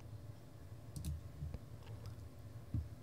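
A few soft computer mouse clicks sound while finishing a software installer, faint taps scattered across a quiet room with no talking.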